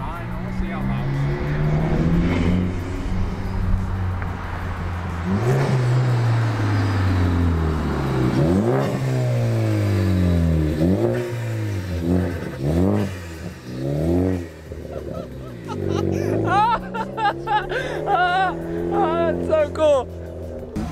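Ford Focus ST with a cowl-induction intake revving repeatedly, sharp climbing and falling engine sweeps in quick bursts, loud and close, with people talking over parts of it.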